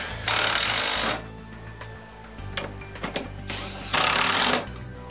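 Bolts being tightened on a mounting bracket for a cargo box on a Club Car Precedent golf cart, heard as two loud sustained bursts of a power driver with quieter metallic clicks and clunks between them.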